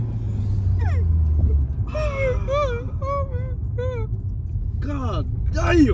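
A deep Ford Mustang engine rumble runs steadily throughout while excited voices shout and talk over it nearby.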